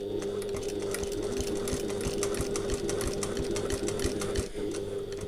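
Sewing machine fitted with a walking foot stitching through a handbag, running in a steady continuous hum with rapid needle ticks throughout, close and fairly loud, briefly dipping near the end before carrying on.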